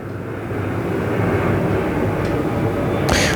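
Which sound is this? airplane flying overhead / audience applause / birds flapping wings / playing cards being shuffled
airplane flying overhead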